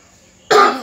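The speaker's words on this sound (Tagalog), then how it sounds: "Pasensya na po't inuubo." A single sharp cough bursts out after a half second of near silence, close and loud, then fades quickly.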